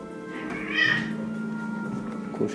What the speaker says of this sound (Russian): Кошки тоже дерутся, да, между собой.